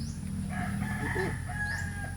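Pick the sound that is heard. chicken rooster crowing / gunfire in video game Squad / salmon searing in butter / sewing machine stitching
chicken rooster crowing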